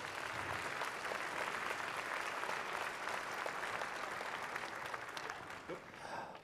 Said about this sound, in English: A nice round of applause for them, please.